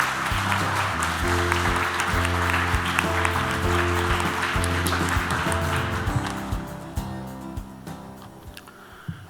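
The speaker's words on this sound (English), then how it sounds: "Please give a big round of applause." Audience applause at a Seoul town hall event for a youth climate challenge, a steady wash of clapping layered over loud sustained music, the clapping thinning out toward the end.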